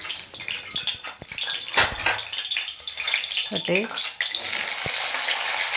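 Small brinjal pieces frying in sesame oil for brinjal thokku make a continuous close sizzle, with occasional clinks and scrapes of a utensil, while a person talks over it.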